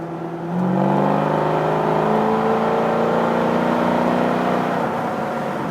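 From inside the cabin of a 1967 Mustang Fastback mild restomod, the V8 engine revs up and holds a steady, droning roar that pulls strongly for several seconds.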